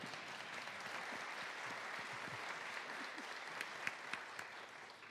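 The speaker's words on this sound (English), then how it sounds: "with my wife, Rianne, you can clap for them." An audience applauds steadily at a House opening day speech, a dense, even wash of clapping lasting throughout with a few sharper individual claps near the end.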